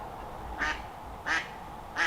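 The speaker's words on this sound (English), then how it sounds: "The mallards are out." Mallard ducks quack outdoors by a lake in Washington's Cascade region, three short separate calls spaced about two-thirds of a second apart, moderately close, over a faint low background.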